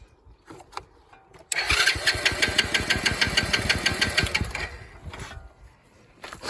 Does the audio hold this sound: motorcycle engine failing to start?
yes